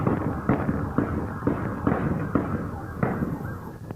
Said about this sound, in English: What sounds like fireworks is a firefight.